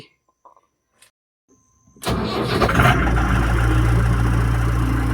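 A vehicle engine starting: near silence with a few faint clicks, then the engine cranks and catches, settling into a steady, loud running drone close by.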